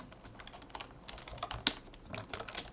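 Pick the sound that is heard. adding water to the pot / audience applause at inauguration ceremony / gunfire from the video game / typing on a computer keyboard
typing on a computer keyboard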